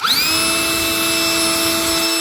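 A Ryobi cordless leaf blower that also serves as an inflator and deflator runs at its highest setting, spinning up quickly into a loud, steady, close motor whine with an airy rush and no speech.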